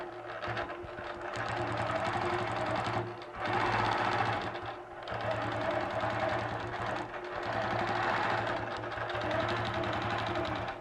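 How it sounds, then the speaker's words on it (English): A sewing machine quilts the bottom half of a star design on fabric using star templates, running in a steady, loud, continuous whir with two brief pauses where the work is shifted. "This time I'm going to quilt the bottom half of the star."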